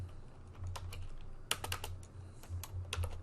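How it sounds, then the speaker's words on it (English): Keys on a computer keyboard tapped in quick irregular bursts, close and fairly crisp, over a low steady hum. "So let me first type in table"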